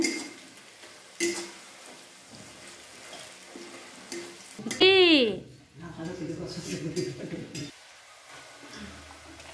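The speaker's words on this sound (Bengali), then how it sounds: "দেখো পেঁয়াজটা লাল লাল করে ভাজা হয়ে এসছে, এই যে ব্রাউন কালার হয়ে এসছে।" Onions fry until browned in a pan in a village kitchen, giving a soft continuous sizzle with occasional stirring clinks, interrupted briefly by a voice in the room.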